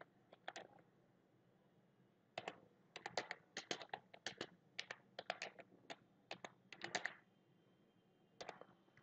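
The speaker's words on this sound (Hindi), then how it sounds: "आपने ये टेक्स्ट टाइप किया" Keys on a computer keyboard clatter in quick irregular bursts of typing into a Microsoft Word 2010 document, quiet and close, with short pauses between runs.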